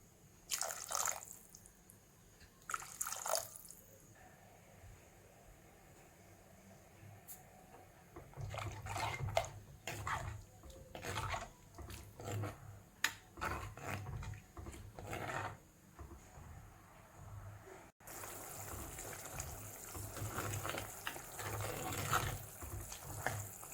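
Water poured into a pan of bitter gourd curry in a home kitchen: quiet splashes and trickling pours come in a few separate bursts, then a louder steady stretch of liquid sound near the end.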